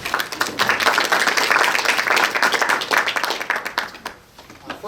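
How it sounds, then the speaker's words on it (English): Parents and staff at a regional school district meeting applaud students from the annual Christmas concert, a loud burst of many hands clapping that fades out near the end. "So round of applause to all of them."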